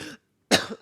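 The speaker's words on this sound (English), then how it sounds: "I'm sorry if I just like coughed in your ear if you're listening with headphones" A person coughs twice after laughing and choking, two short harsh bursts close to the microphone separated by a brief silence.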